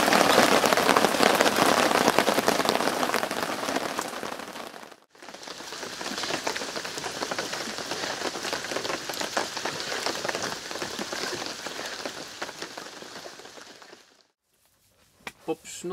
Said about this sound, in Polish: Zobaczcie sami, jak pięknie pada.